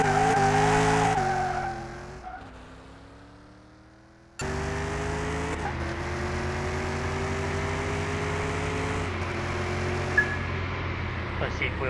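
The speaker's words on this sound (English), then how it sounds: "Let's see if wheel spinning for longer would make it any faster or not." In Car Mechanic Simulator 2021, a car's tires spin and squeal at launch while the engine holds a steady, loud drone. It dips briefly, then returns for an even, sustained stretch.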